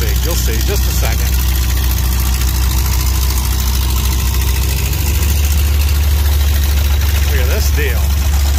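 A small spectator tractor idling at a farm show among other tractors, a loud, steady low engine rumble throughout, with a voice speaking briefly over it.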